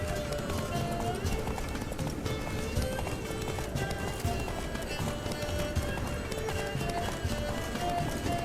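Horse galloping in The Witcher 3: Wild Hunt, rapid rhythmic hoofbeats pounding steadily and close, mixed with game music and a voice talking over the run.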